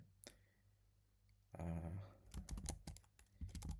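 HTML code typed on a computer keyboard: a lone keystroke, a short silence, then a brief fuller burst followed by a rapid run of close, crisp key clicks.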